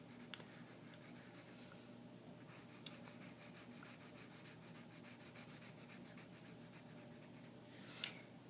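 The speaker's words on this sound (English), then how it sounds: "Just shade it in with a pencil." Graphite pencil shading across paper, a steady run of quick rhythmic scratchy strokes, close and fairly quiet, with one sharper tap near the end.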